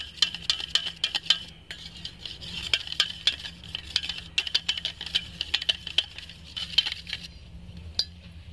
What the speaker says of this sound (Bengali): খুব সুন্দর করে ফেটিয়ে নিয়েছি দইটা